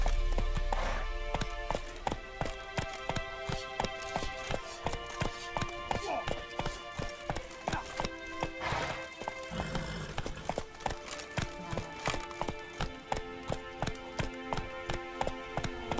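Roach the horse gallops in The Witcher 3: Wild Hunt, steady rhythmic hoofbeats pounding close and clear for the whole stretch, layered over a bed of game music.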